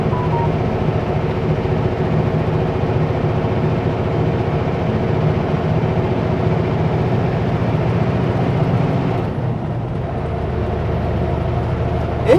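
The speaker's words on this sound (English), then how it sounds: "Engine sounds different. I don't know if it's a good thing or a bad thing, but engine sounds different." Steady low diesel drone of a Super B logging truck engine running, a continuous heavy rumble that holds level throughout and eases slightly near the end.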